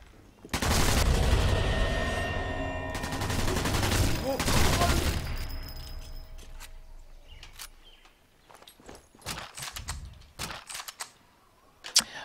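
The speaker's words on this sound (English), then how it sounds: "Going to my Thompson submachine gun." Thompson submachine gun fire in the Sniper Elite 4 video game, loud dense bursts of rapid automatic shots over the first several seconds, then scattered sharp single reports and clicks as the action quiets.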